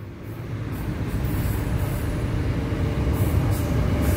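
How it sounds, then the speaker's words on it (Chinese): Puyuma Express tilting train (TEMU2000 series, TEMU2027+TEMU2028) crossing a well-known iron railway bridge on Taiwan's South-Link Line, a loud, steady rumble and clatter of wheels on rails building as it passes close by. "哎呦，列车！"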